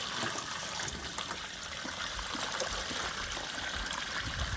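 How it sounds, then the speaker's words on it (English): Water pours steadily into a portable washing machine in a soft, continuous splashing trickle, fairly quiet and unbroken, with no talking. "Add some water in."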